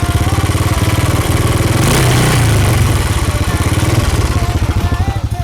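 A 1996 Honda Astrea Grand motorcycle engine runs loud and close, putting out a rapid steady putter that swells briefly with a rev before settling back to a lumpy idle.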